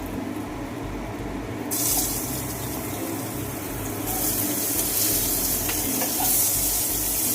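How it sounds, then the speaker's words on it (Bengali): Potatoes frying in hot oil with a continuous close sizzle that swells louder partway through, with occasional stirring clicks. "ওই তেলের মধ্যে আলুগুলো ভেজে নেব।"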